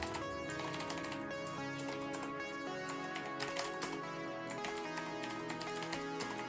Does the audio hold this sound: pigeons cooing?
no